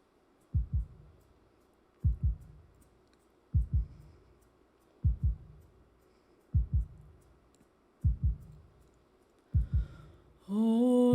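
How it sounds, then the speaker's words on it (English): A steady inserted heartbeat pulses in slow double thumps, evenly spaced about every one and a half seconds, close and clear, ahead of a sung rendition of Danny Boy that begins at the very end. "I've inserted a heartbeat into this"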